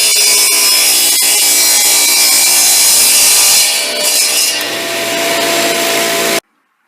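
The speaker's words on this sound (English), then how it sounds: "I'm going to use my radial arm saw that I bought secondhand back around 1974" A radial arm saw bought secondhand around 1974 cuts a small piece of wood, a loud close whining drone that deepens as the blade bites and then stops abruptly.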